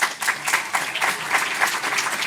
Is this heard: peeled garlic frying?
no